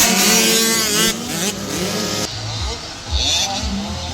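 50cc motocross motorcycles racing in a class final at a Mindanao motocross series event, small engines buzzing and revving loudly nearby as the bikes pass, with an excited crowd and voices shouting over them.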